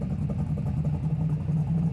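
A Ford 460 V8 engine idles roughly with a steady, low rumble that wavers slightly, running continuously and fairly close with no other sounds.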